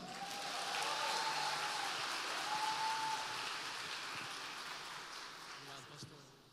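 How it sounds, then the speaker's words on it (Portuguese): Church congregation applauding during a Sunday morning service, a broad, steady wash of many hands clapping that swells and slowly fades, with a faint sung tone drifting over it. "Vamos dar um aplauso ao Senhor pela vida do pastor Breno"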